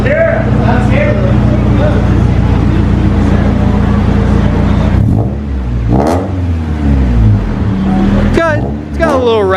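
A Honda Civic EK engine revving loudly and close with sustained throttle for several seconds, then the engine settles back while people talk nearby.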